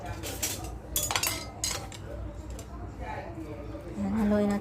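Metal utensil clinks and scrapes against a bowl while eggplant salad seasoned with white pepper is stirred by hand, a run of irregular near clatters with a person talking over them.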